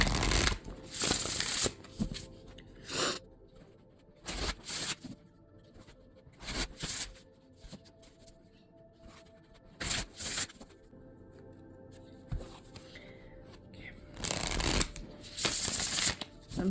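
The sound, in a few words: shuffling a deck of tarot cards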